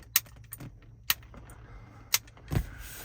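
Inside a log truck, the electric switch for the two-speed axle gives sharp, distinct clicks, about four of them at uneven intervals over a quiet background hum.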